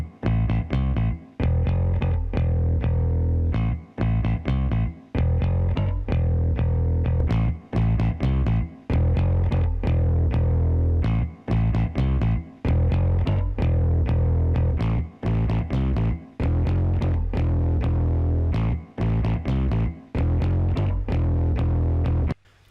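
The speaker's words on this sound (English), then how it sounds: "Now let's activate our plugin and apply some distortion so you can see how it's gonna" Distortion applied through the T-Racks Comprexxor compressor plugin to a dense, loud music track with steady rhythmic hits, the driven sound continuous and saturated with brief gaps between phrases and no voice over it.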